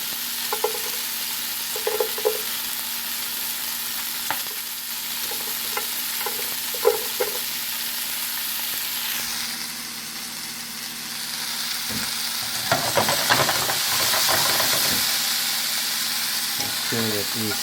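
A small chopped onion browns in a home kitchen pan for meatball sauce, giving a low steady sizzle with intermittent scraping and stirring taps, then a louder burst of frying and clatter near the end.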